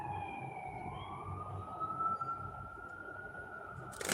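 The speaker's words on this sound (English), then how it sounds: "Hear them sirens again?" Emergency vehicle sirens wail outside, a faint, distant, sustained tone that slowly rises and holds over a low background rumble.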